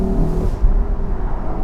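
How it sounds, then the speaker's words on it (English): A Lexus LC500 Convertible V8 in sport mode, with a loud, steady, raucous engine drone heard close up from inside the car. "make the engine a little bit more raucous"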